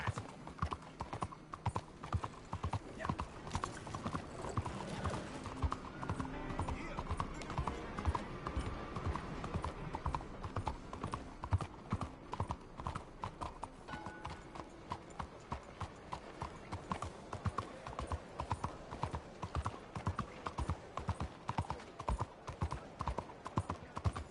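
Steady rhythmic clip-clop of horse hooves at a trot in Red Dead Redemption 2, close and continuous through the whole stretch, with occasional low voices and game ambience underneath.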